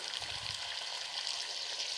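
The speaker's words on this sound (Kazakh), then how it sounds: "Енді үстіне шамамен осылай суымызды құйып жібереміз." Grated carrots and onions sizzle steadily in a pan as water is poured over them, a continuous hissing crackle close by with no talking.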